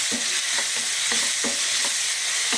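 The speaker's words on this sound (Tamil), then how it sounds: "இந்த தக்காளியும் போட்டு நல்லா வதக்கலாம்" Tomatoes sautéing in a hot pan for chicken kurma, a steady broadband sizzle with a spatula scraping and stirring in regular strokes roughly every half second, close and alone.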